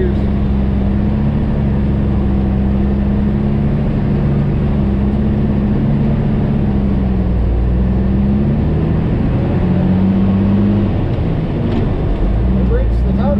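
A truck hauling a Kubota tractor and Yanmar excavator labors up a gravel mountain road, its engine droning steadily and loudly throughout with shifting low tones, heard from inside the cab.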